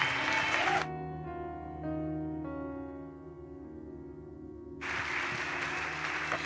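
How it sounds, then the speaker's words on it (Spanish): A church congregation gives loud applause at a Sunday service, dense clapping that drops away into sustained keyboard chords, then surges back in strongly near the end. "dale un fuerte aplauso, una ofrenda de palmas"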